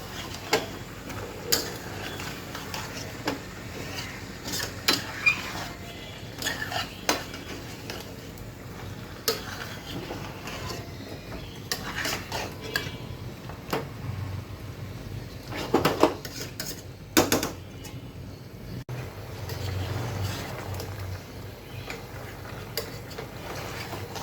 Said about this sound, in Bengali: তো এখন ভালো করে নেড়ে চেড়ে দিচ্ছি